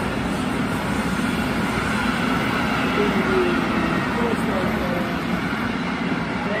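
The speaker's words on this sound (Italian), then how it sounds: "treno merci" A freight train passes nearby with a loud, continuous rumbling roar that holds steady throughout, and someone speaks briefly over it.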